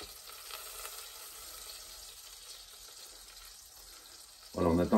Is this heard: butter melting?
yes